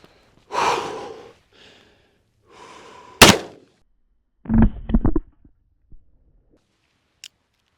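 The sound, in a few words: Taurus M44 .44 magnum revolver firing 305 grain HSM bear load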